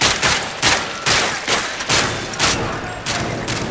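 Rapid bursts of gunfire from a Call of Duty-style shooter during a search-and-destroy round on an underground map, several sharp volleys spaced about half a second apart, loud and close with no talk.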